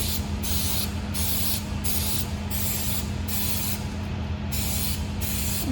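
Cooking grease spray hisses into a muffin pan in a rapid series of short, regular bursts over a steady background hum, close by with no talking.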